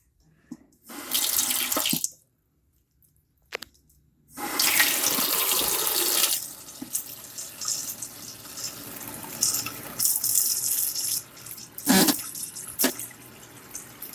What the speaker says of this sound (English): Put it in sink with cold water.